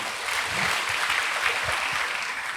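Church congregation applauding during a Sunday service, a steady wash of many hands clapping at moderate volume with a few low voices underneath.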